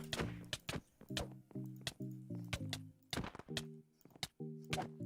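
Arrows strike a player in Minecraft, a rapid series of sharp thunks and thwacks in irregular bursts, close and loud, separated by short gaps with game tones in between.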